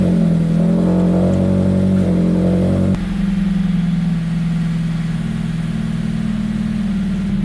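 Naturally aspirated Subaru BRZ on a stock tune, up on jack stands, cranking and catching into a loud steady idle, then settling to a lower, smoother idle after a sudden drop in revs.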